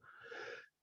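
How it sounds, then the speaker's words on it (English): A lingering cough from someone recovering from COVID, heard as a single short wheezy, breathy rasp that cuts off abruptly. "I'm sorry for the coughing."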